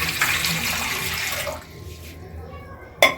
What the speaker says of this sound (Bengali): এবারে গ্যাসে জল দিয়ে, এই ডেচকির মধ্যে জল দিয়ে দেবো,